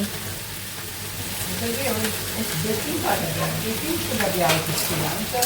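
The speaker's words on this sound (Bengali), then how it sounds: "একটু কষিয়ে নেবো ভালো করে" Chicken pieces sizzle in a pan while being stirred with spices, a continuous frying hiss broken by scraping stirs, with a voice talking softly.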